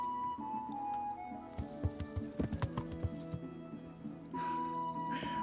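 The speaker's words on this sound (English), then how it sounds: "So what happens if I ride the horse?" Hooves of a horse clip-clop in the video game Kingdom Come: Deliverance, a run of distinct, fairly close hoofbeats over soft game music and ambience.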